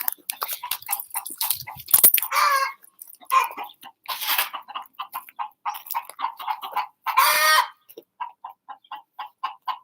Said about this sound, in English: So usually the chickens get some table scraps this time of day, so they are waiting for that.